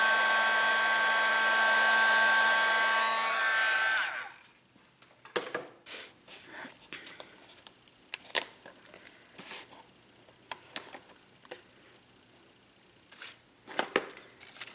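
A heat tool blows steadily for about four seconds, melting embossing powder on a handmade baby card, then cuts off, leaving quiet scattered crinkles and taps of craft handling.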